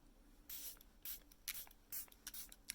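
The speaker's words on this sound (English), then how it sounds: "So I'm going to spray this all over my face," Several short misting bursts from a budget Makeup Revolution face spray, sprayed liberally all over the face as a primer; close, soft hissy puffs in uneven rhythm with quiet pauses between.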